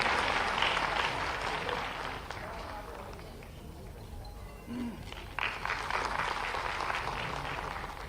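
Loud, sustained applause from a large audience fills a hall at an environment conference in Bhopal, the clapping dipping briefly midway before surging back, with a voice speaking over it at times.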